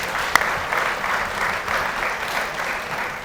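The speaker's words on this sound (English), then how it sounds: "How about a round of applause for Jack?" University audience claps for a USD athletics announcer at an introduction event, a steady, full round of applause from a crowd that runs throughout, with no speech over it.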